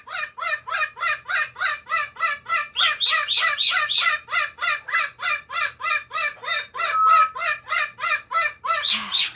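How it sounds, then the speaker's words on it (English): Parrots give a rapid, rhythmic series of harsh squawking calls, loud and continuous, as if passing close overhead. "the wild parrots are flying over"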